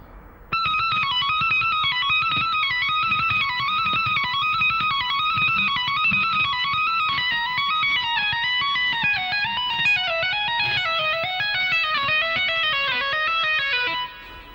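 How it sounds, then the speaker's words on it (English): Electric guitar tapping lick played at a slow tempo, a rapid, even stream of clean, bright legato notes cycling through repeating melodic patterns, close and steady for about fourteen seconds with no talking. "at a slow tempo, both those tapping sections together should sound like this"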